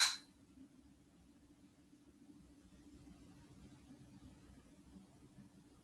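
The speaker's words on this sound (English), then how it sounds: "You can hear the hum of the engine, yet it is calming." A boat engine's steady, low hum drones on throughout, even and unchanging, after a brief sharp noise at the very start.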